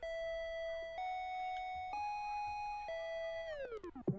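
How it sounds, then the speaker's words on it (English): A school bell in a K-pop song rings out as a steady electronic tone, stepping up in pitch three times, then sliding down and breaking apart into short scattered hits at the end. "School bell."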